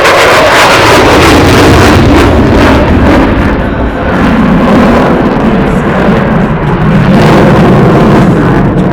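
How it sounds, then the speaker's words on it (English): F-35B Lightning II short takeoff, vertical landing stealth fighter jet flying at an outdoor airshow in Southern California, a loud continuous roar with heavy low rumble and wind buffeting that swells and eases throughout. "presenting the F-35B Lightning II, the world's first short takeoff"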